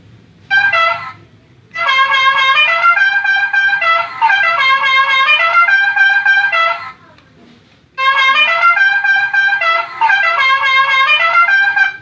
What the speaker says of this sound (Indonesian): Ini suara apa, koboi, klakson koboi.